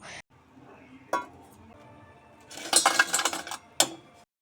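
Browned fried chicken kababs set down onto a plate, a few light clinks and scrapes of utensil on dish, with a busier cluster of clattering contacts near the end; no talking.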